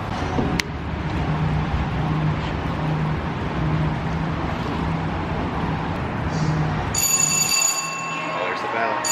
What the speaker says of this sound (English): There's the bell ringing.